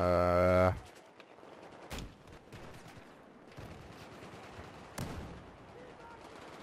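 Game gunfire in a Battlefield 4 match: a few sharp shots crack out around two and five seconds over a busy battlefield din, with a loud tonal burst at the very start.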